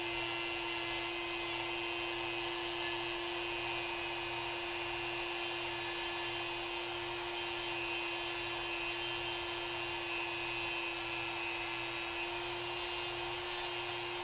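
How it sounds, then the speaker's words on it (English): Steady, continuous whirring of a small rotary sanding tool working down a peg on a Mezco Green Arrow toy figure, constant moderate level with a fixed pitched whine and no pauses or talking. "So right now I'm sanding down that peg."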